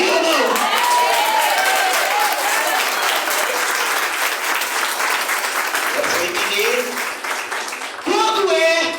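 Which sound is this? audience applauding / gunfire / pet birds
audience applauding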